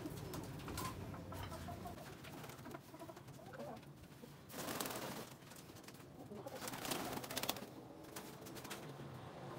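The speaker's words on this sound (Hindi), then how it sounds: "ये नए कबूतर हैं" Newly caged pigeons coo softly in repeated low, throaty bursts, close but faint, mixed with rustling and fluttering inside the cage.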